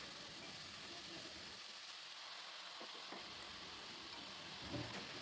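Potato and brinjal frying in a pan, a steady faint sizzle and hiss running throughout with a few light stirring scrapes and no talking.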